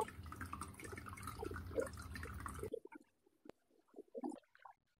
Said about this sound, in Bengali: মাছটা এবার আমি ভালো করে জল দিয়ে ধুয়ে নেবো।